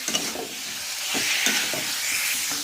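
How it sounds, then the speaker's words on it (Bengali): Mutton pieces for a dhaba-style curry sizzle loudly in a pan and are stirred, giving a bright, steady frying hiss broken by soft scraping strokes, close and with no talk. "এর মধ্যে মটনটাকে দিয়ে দিলাম মটনটা দিয়ে ভালো করে কষাবো"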